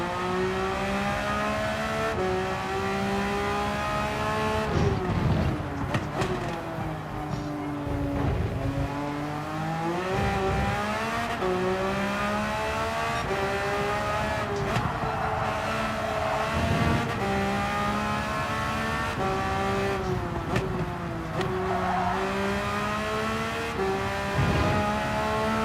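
Race car in Gran Turismo 7 driving hard around a track, engine continuously revving up and down through gear changes, dipping under braking into turns with faint tire squeal, loud and steady with no talking.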